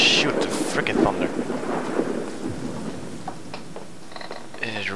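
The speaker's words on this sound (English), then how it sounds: "Oh, shoot, the frickin' thunder." Thunder rumbles in the horror game Slender Mansion over steady rain, a loud rolling crash that fades into a continuous downpour, with brief game sound effects near the end.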